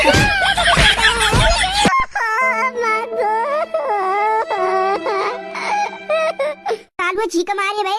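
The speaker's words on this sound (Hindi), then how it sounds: "वो चीख मारी" A cartoon woman screams loudly and shrilly for about two seconds in a Hindi comedy cartoon, followed by wavering, whiny cartoon voices.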